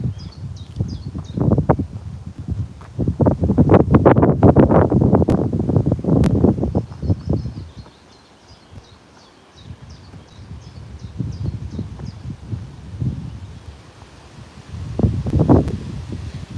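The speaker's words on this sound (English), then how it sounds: "Ooh, a little bit breezy." A breezy morning walk outdoors among honeysuckle and hedgerows, with wind gusting and buffeting the microphone in a steady low rumble that swells and eases. Faint birdsong chirps in the background throughout.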